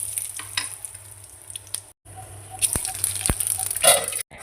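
Onions sizzle in a little oil with cumin seeds, garam masala and bay leaf, a soft crackling fry broken by a brief gap and scattered stirring clicks, with some talking over it.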